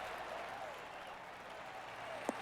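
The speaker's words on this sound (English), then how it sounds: "Yeah, you gotta do the golf clap." A gallery at a PGA 2K23 video game golf tournament gives steady, soft, distant applause that continues evenly, with one brief sharper tap near the end.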